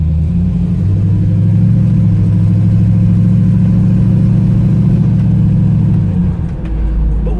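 A 1968 Camaro RS V8 with an automatic transmission and updated drivetrain, not yet fully warmed up, revs hard in a loud, sustained roar close by. It holds steady for about six seconds, then drops back toward idle.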